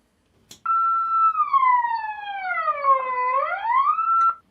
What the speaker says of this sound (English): We have the collision alarm.